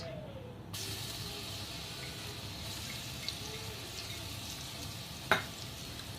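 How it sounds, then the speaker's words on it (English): Ginger, garlic and green chili paste frying in hot oil in a pan: a steady, close hiss of sizzling that starts abruptly and continues evenly, with a single sharp spatter pop near the end. "First we will start by putting in this ginger, garlic and green chili paste."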